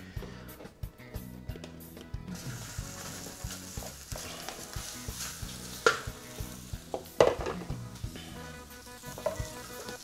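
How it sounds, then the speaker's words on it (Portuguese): Pork fillet browns in olive oil in a pan, sizzling and crackling steadily while it is stirred, with scraping bursts and a few sharp clicks of utensils against the pan, close and fairly quiet. "Vamos dourar todas as carnes aqui."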